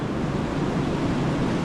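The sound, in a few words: sea waves near the hotel in Zadar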